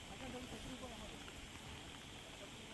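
Continuous rain falls over flooded, low-lying ground in Tapi district, Gujarat, making a soft, unbroken wash of noise, with a faint voice murmuring underneath.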